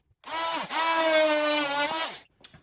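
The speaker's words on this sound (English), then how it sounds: "Okay, now we're done drilling that." A power drill bores into a car bumper to mount a carbon fiber mesh grille on a G37, two sustained whining bursts with a short break between, loud and close, followed by a couple of faint knocks.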